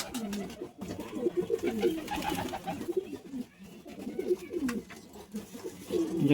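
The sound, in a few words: pigeons cooing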